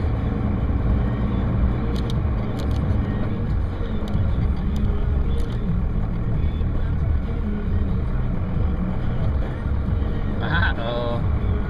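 A John Deere tractor stuck in a field churns out a loud, continuous low engine rumble that holds steady without letting up, with a faint higher whine riding on top near the end.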